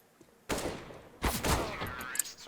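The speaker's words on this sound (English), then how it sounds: "Up to the AK, hoping to finish him off." An AK rifle fires in Counter-Strike: Global Offensive, two loud bursts of rapid automatic shots cracking close up, the second longer and trailing into a ringing tail.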